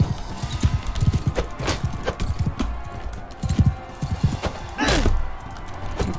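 Horse hooves clip-clop in Bannerlord, a rapid run of near, loud hoofbeats in uneven bursts with a brief snort or whinny near the end.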